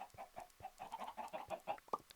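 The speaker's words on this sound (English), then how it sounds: "We can also actually kill some of these chickens because we've got quite a few here." Chickens cluck repeatedly in a video game, a busy run of short close clucks and squawks with one louder squawk near the end and no talk.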